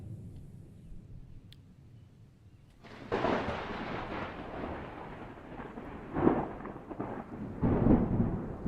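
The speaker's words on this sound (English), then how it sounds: "is the lightning too loud?" Thunder rumbles as a stormy ambience effect, a low rolling roar swelling in with a couple of sharper cracks over a steady background.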